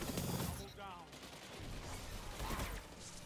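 Rapid gunfire from a trace rifle rattles in a video game PvP match, dense bursts mixed with other game effects while a player talks over the action.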